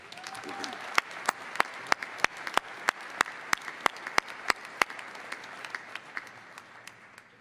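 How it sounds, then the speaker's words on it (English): At a December university commencement ceremony, a crowd applauds the graduates while one close pair of hands claps sharply in a steady, fast rhythm over a softer, distant spread of clapping that fades out. "another round of applause for all of our outstanding graduates today"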